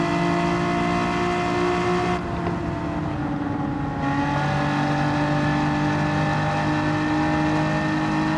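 Engine roar from racing cars in the Gran Turismo 7 video game as they overtake a GTR, a loud continuous high-revving whine with steady pitch shifts, a brief dip where one car passes, no talking.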